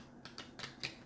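A deck of playing cards for the Forbidden Island board game is riffled in four quick, faint bursts close by, each a short papery flutter.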